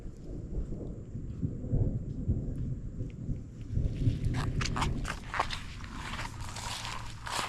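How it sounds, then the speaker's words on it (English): Outdoor thunder near a dock, a deep continuous rumble rolling on for several seconds, with scattered crackling patter layered on top toward the end. "there hasn't been any lightning today, mostly thunder"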